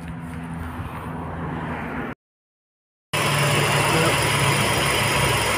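A 2005 Toyota Vios petrol car engine idles with a steady, even hum, close and continuous, cut by a brief silent gap before resuming louder.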